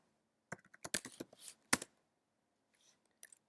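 Quick bursts of computer keyboard typing, close and crisp, a cluster of rapid keystrokes followed by a pause and a few final taps.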